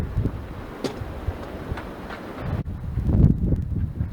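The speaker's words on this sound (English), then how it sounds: "Please forgive the wind." Gusty outdoor wind buffets the microphone with low rumbling bursts while a 1985 Dodge Ram D50 is being cut up, growing stronger toward the end, with no one speaking.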